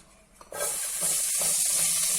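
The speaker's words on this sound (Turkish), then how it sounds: "soğanları pembeleşinceye kadar kavuracağız" Chopped onions hit hot sunflower oil in a frying pan and burst into a loud, steady hiss that keeps going to the end, with soft stirring scrapes underneath.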